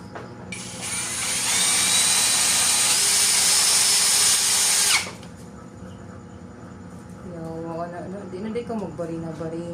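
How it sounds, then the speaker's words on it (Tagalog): A Tanzu impact drill runs in a kitchen, its high, steady whine starting abruptly, holding at full speed for about four seconds, then cutting off, leaving a faint hum and soft background voices. "testing na natin yung impact drill."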